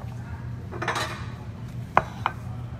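A knife cuts across a BLT made with strips of Benton's bacon on a cutting board, a soft crunching slice followed by two sharp taps of the blade on the board, close and brief.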